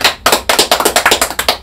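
Hands clapping in a quick, even rhythm at the close of a Korean broadcast, a dozen or so sharp, close claps from a small group with no voices.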